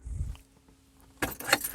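A BMW i3 car key on its ring jangles in a short, bright metallic burst after a near-silent pause, close and clear.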